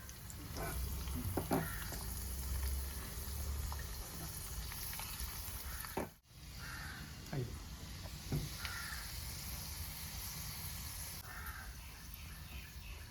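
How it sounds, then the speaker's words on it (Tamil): Dried fruit and nuts sizzle softly in a generous amount of melted ghee for tempering sweet pongal, a faint, steady frying hiss with occasional clinks and a crow calling in the background. "நெய் உருக்கிக்கலாம். நெய் கொஞ்சம் நிறையாவே ஊற்றிக்கலாம். கிறிஸ்மஸ் பழத்தையும் இதையும் நான் போட்டுக்கிறேன்."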